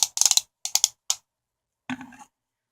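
Joints of an action figure click as they are moved, a quick burst of sharp ratcheting clicks followed by two shorter clusters and a single click, then a brief grinding click after a pause, close and clear with no talking.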